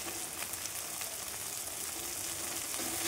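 Onion, ginger-garlic paste and salted tomato being fried down in a pan for a stuffed pointed gourd dish with prawns, a steady moderate sizzle with faint stirring, uninterrupted and close.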